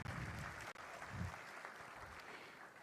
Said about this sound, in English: A huge round of applause for this inauguration ceremony.